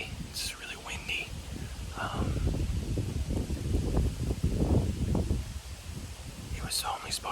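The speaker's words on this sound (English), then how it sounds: "It's really windy." Gusty wind sweeps across an open field on a hot day, rumbling and buffeting against the microphone. The gusts swell heavily through the middle and then ease back toward the end.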